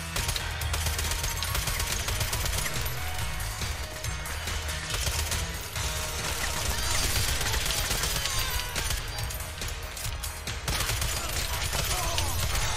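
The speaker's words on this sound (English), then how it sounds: "Why are you shooting me? Shoot the guy with the disc!" Rapid gunfire from the video game Dark Data, dense bursts and volleys of shots running continuously and loudly throughout, with a busy game soundscape underneath.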